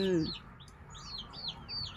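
A bantam chicken gives a short series of high, thin chirps, about four faint calls spaced evenly over two seconds, following a brief low voice at the very start.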